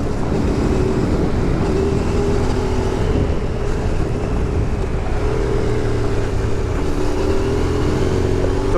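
An off-road motorcycle rides and corners, its engine a steady, loud, unbroken drone with rough rumble and wind noise throughout.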